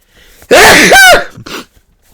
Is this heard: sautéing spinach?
no